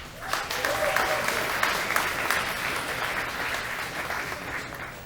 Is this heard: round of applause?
yes